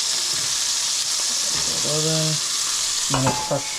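A nub of butter melting in a hot steak pan gives a steady loud sizzle and hiss throughout, with a couple of short tonal clinks or voice-like sounds briefly breaking over it.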